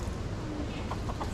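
Clucking and short calls from chickens and roosters come through a steady outdoor background hum in Key West, Florida, with a few soft rising notes near the end.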